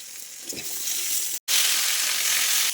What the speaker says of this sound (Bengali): এবার আমি হালকা এঁচড়টা আমি নেড়ে নিচ্ছি